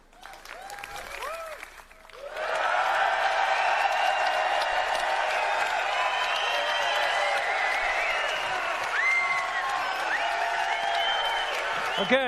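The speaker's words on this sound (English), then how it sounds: "As you can hear, we've got a great crowd here in London." A big crowd at the Hammersmith Apollo in London breaks into sustained applause and cheering during the EA Play 2016 press event, loud and steady after a brief voice at the start.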